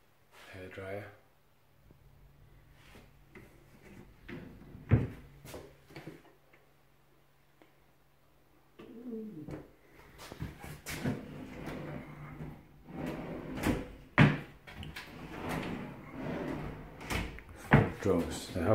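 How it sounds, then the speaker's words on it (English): Drawers and cupboards in a spacious two-bedroom apartment give sharp wooden clicks, knocks and sliding thuds scattered across the span, close and fairly loud, with someone talking between them. "Drawers, the house full of drawers and space."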